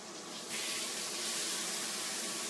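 Salted meat is laid salt side down into a hot pan, and a dense, bright sizzle swells up after a brief pause and holds steady and loud.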